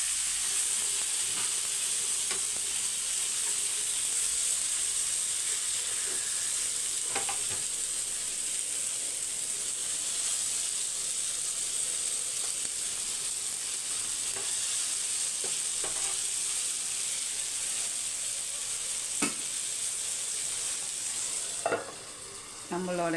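Prawns with curry leaves sizzle steadily on a heated dosa griddle over low flame, a continuous close frying hiss with occasional scraping clicks from turning near the end.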